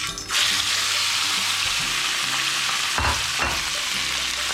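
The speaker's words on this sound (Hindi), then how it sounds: "हमने तवा गरम किया है, ये देखें। अब हम इसमें कलेजी डालेंगे।" Marinated chicken liver (kaleji) hitting a hot tawa on medium flame, with a loud, steady sizzle and spatter that runs the whole time and a couple of brief stirring scrapes near the end.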